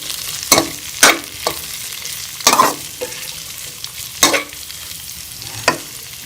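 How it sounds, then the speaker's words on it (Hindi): Capsicum and onion fry in a pan for chicken manchurian, a steady sizzle broken by six or so loud, sharp scrapes and clatters of a spatula tossing the vegetables, close and prominent with no talking. "इसी के साथ मैं इसमें ये शिमला मिर्च और प्याज जो हमने जो ली कटी हुई थी ये हम इसमें शामिल कर लेंगे और इसे भी हम इसके अंदर फ्राई कर लेंगे।"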